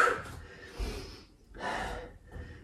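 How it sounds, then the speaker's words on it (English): Forceful, noisy exhales during yoga HIIT squats, with three breathy bursts in an uneven rhythm. The breaths sound close and fairly loud, and no speech is heard. "Nice noisy exhales on the up."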